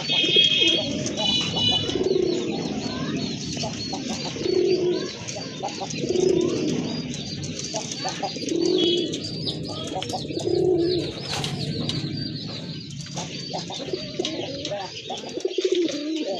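Domestic pigeons of local Bangladeshi breeds cooing repeatedly at a seller's loft, a steady series of low, rolling coos every couple of seconds alongside faint chirps and background bird activity, fairly close and moderately loud.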